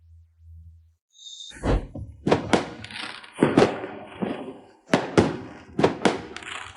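Fireworks bursting outdoors in a sequence of sharp booming explosions, several in quick pairs and clusters, moderately loud with short decaying tails, no talk.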